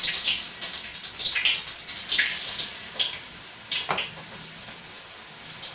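Pieces of pork liver frying in hot oil in a kawali, a steady close crackling sizzle with bright spattering pops throughout and a couple of louder bursts; no talking.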